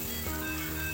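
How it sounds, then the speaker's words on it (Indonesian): A ground spice paste frying in a wok gives a steady sizzle for a short moment over a low kitchen hum. "Tahap pertama yang udah digiling tadi kita goreng tuh"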